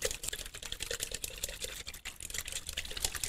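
A spoon lightly stirs a potato salad dressing with garlic, apple cider vinegar, salt and pepper, making a steady run of soft, close clicks and taps.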